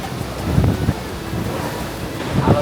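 Strong wind buffets the microphone while big waves surge and roll in at a cave beach in Uluwatu, Bali, a steady loud roar with two heavier swells breaking.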